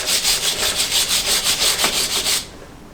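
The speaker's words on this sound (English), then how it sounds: "just scrape that off best we can" Old sealant being scraped off a capstan winch during an oil-seal change, a loud, close, rhythmic series of rasping back-and-forth strokes, about a dozen in quick succession, stopping abruptly before a quiet end.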